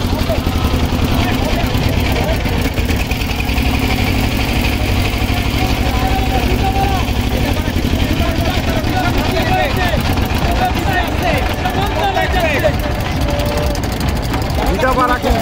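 Engines of racing boats roar in a steady, dense drone throughout a river boat race between the boats Padma Express and Sher-e-Bangla as they turn, with a commentator talking continuously over the noise.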